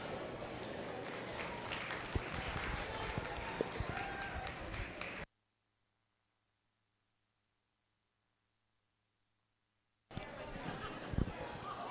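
Crowd applause at a county junior goat show, a dense patter of clapping mixed with chatter that stops abruptly for several seconds of silence, then resumes.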